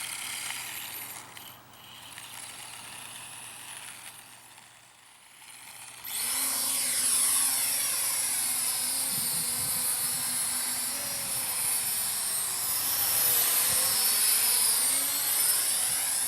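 A Syma X9 or JJRC H23 RC flying car drives in reverse outdoors, its small motors whining in a steady high-pitched buzz that starts suddenly partway in and holds loud and close.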